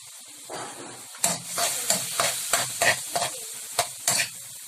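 Fried rice with canned beef loaf and diced carrots sizzles steadily in a hot pan while a spatula scrapes and tosses it in quick, repeated strokes, close and fairly loud.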